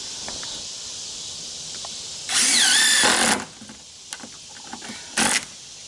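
A drill drives screws into porch wood, one near, whining burst about a second long followed by a shorter second burst, with quiet background and small knocks between.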